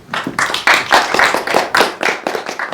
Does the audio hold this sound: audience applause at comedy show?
yes